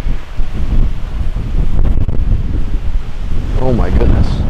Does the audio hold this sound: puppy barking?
no